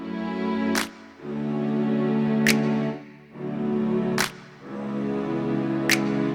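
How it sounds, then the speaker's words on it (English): Four sharp snap-and-clap hits land at an even pace over a sustained tonal music bed, each crack bright and close. "Then I used a snap and a clap because I already had a nice foundation."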